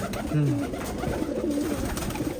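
Pigeons coo at a pigeon farm in soft, low, rolling calls, one near bird clear over a busy background of other birds and faint ambient noise.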